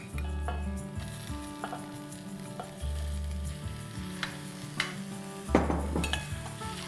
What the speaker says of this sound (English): on a high flame, let's sear the mutton for at least 3 to 4 minutes